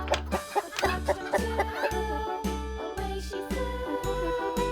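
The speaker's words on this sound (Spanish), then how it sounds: "El primer animalito que tenemos es un pollo." In a children's animal-sounds puzzle, chicken clucks come in a regular rhythm over bright, jingling music, clear and close, with no talking.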